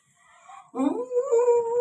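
A dog lets out a drawn-out, high whine during a bath, wavering and holding, loud and close, after a brief quieter whimper.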